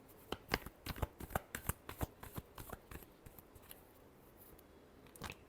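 Tarot cards are shuffled by hand in a quick run of crisp riffling snaps for about three seconds, thinning to softer rustles, then a brief final flutter, close and alone.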